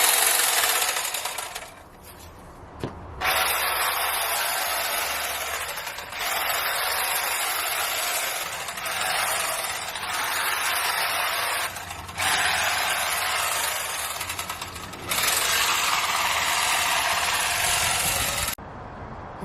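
Hedge trimmer pruning a garden hedge, its motor buzzing loud and close in long steady bursts broken by brief pauses and dips in revving, with no talking.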